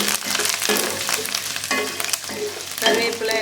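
Dried red chillies and curry leaves crackling in hot oil for a tamarind rice tempering, loud close sizzling that rises in sharp bursts, with no one speaking.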